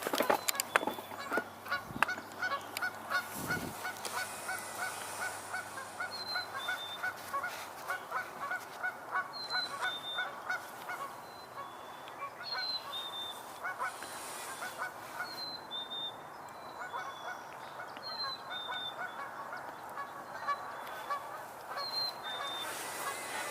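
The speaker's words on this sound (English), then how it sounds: "Sounds like some geese are coming in." Geese honking as they fly in overhead outdoors, a series of repeated two-note honks from a distance, spaced irregularly over a steady background hum with a few sharp knocks near the start.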